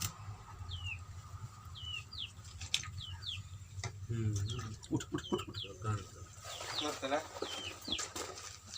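Chickens cluck and chirp nearby at an outdoor building site, with repeated short calls over steady background noise and scattered work sounds.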